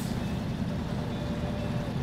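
A heavy truck engine in the game Snowrunner labors up a steep incline, a steady low, dense rumble with no breaks.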